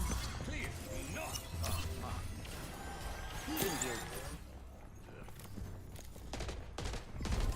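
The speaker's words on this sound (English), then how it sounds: "An enemy turret here." Bursts of rapid gunfire from an enemy turret in the Overwatch Arcade mode, clattering in volleys amid game effects and voice lines, with talk over it.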